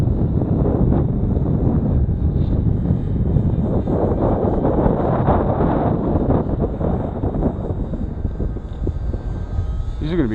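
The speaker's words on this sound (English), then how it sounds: "And it's windy." Strong, gusty wind roars continuously across the microphone at an outdoor field where a Parkzone Icon A-5 model plane is flying, with a steady broadband rumble throughout.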